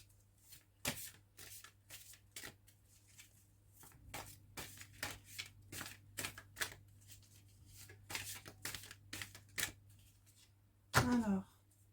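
Tarot cards shuffled by hand during a card reading, giving repeated crisp riffles and snaps in bursts across the clip and ending in a sharper flutter. The sound is close and fairly quiet over a low steady hum.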